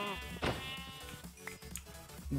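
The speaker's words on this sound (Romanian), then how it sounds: "Opa, avem și oi." A single sheep in the Minecraft video game gives a few nasal, wavering bleats one after another, fairly quiet and with no speech over them.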